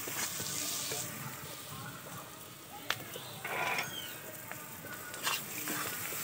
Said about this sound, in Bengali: দিয়ে এটা একসঙ্গে ভালো করে নাড়বো